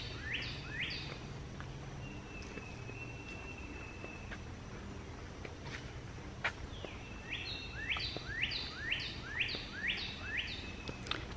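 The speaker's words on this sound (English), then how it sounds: "Pretty sure that loud bird call is a Carolina wren." A Carolina wren sings faint, quick repeated chirping phrases in two bursts against a soft outdoor background hum.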